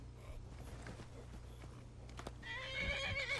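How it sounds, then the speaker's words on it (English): A horse whinnies and neighs loudly in Skyrim, the call rising over clip-clop hooves and creaking game noise in the background, with no talking. "Now the horse is gonna go after that thing."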